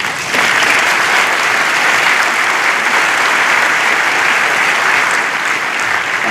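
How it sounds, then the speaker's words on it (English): A large student audience applauds loudly at a university address, sustained and even throughout, with dense clapping and no speech over it. "Please join me in offering a heartfelt round of applause"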